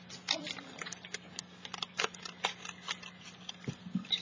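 Scissors trim scrap paper for a mixed media journal, giving a quiet, close series of irregular crisp snips and paper rustles under a faint steady hum.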